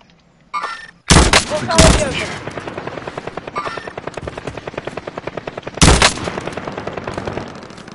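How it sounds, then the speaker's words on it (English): Gunfire in the Warzone video game: sharp loud shots at the start, then a long rapid automatic burst of evenly spaced cracks, with another loud blast near the end, close and dominant over the game ambience. "He's shooting this way."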